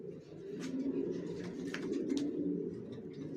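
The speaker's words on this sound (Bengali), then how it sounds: "আমার লফ থেকে একদম এই কবুতর বিক্রি হয়" Racer pigeons cooing in a loft, soft repeated rounded coos layered over one another, moderately close with faint chirps and no talking.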